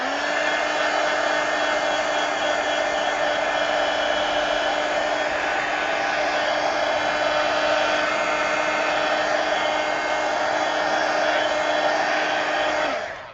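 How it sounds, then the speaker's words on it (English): A heat gun blows steadily over a watercolor and pencil drawing, a loud, even whirring hiss with a fixed tone that runs unbroken for about thirteen seconds, then cuts off at the end, with no voices. "let me hit this with the heat gun"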